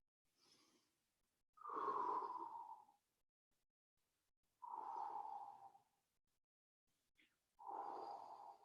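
Audible breaths during a Pilates mat exercise, three strong exhales and one softer breath, each lasting about a second, spaced by quiet pauses and close to the microphone, with no speech.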